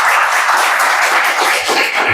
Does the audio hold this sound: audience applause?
yes